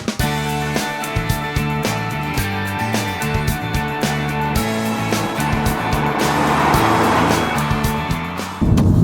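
A 2009 Chevy Cobalt SS accelerates hard through its gears, the engine revving loud and close with a rising whine and brief dips at each shift, then climbing steadily toward about 5,000 RPM.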